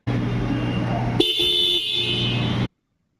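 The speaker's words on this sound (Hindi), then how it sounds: "डुअल हॉर्न है, बहुत ज्यादा लाउड इसका हॉर्न है।" A loud, close two-tone dual horn on a Bajaj Pulsar motorcycle blares continuously for about a second and a half, over engine idle and background noise.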